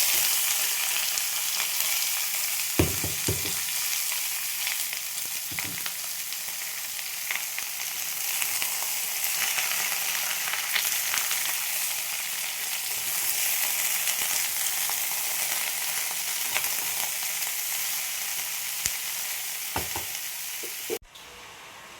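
Chopped ash gourd pieces sizzle steadily in a hot pan, a dense continuous crackle with a few soft clunks of stirring, ending abruptly.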